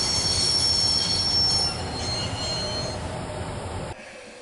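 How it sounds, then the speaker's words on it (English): Train in the Broken Sword video game braking to a stop, a sustained high metallic wheel squeal over a heavy rumbling roll that eases off and cuts out at the end. "I'd always wanted to stop a train, and now was my chance."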